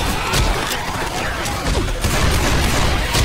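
Gunfire in the video game Left 4 Dead 2 forms a loud, dense, continuous barrage of shots and impacts with no clear gaps.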